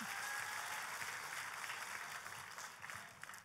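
A church congregation breaks into sustained applause, a dense steady wash of clapping that gradually thins toward the end, with no voices rising above it.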